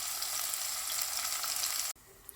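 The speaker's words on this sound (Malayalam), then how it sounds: "ഓണിയൻ ഇപ്പോൾ ഫ്രൈ ആയി വന്നിട്ടുണ്ട്." Sliced onions frying in hot oil for a prawn biryani give a steady, loud, dense sizzle that cuts off abruptly near the end, leaving brief quiet with a faint crackle.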